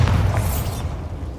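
A Bombarda spell explosion in the video game Hogwarts Legacy: a single heavy, close boom with a deep rumbling body that quickly decays.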